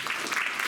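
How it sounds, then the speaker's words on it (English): A short burst of steady audience applause at a creative writing reading event, a brief wash of many hands clapping together at moderate volume with no voices. "give him a round of applause."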